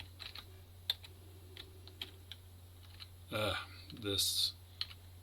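Keys pressed on an Atari 8-bit computer keyboard while playing the game Thrust, giving sparse, irregular soft clicks over a steady low hum, with a couple of louder bursts of game sound in between.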